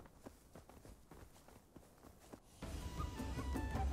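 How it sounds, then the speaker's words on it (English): Player footsteps in the Rust survival game, a steady run of soft, evenly spaced steps near the listener, then a louder, denser burst of mixed game noise takes over in the final second. "We've heard footsteps in the other hangar"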